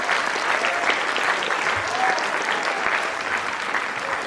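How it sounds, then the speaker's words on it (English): A school audience at a book reading session gives a sustained round of applause, a dense steady wash of many hands clapping that holds at an even level throughout. "let's have a thunderous round of applause."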